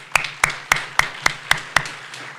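Applause as a slow, even run of seven sharp claps, close and distinct, like one person clapping steadily.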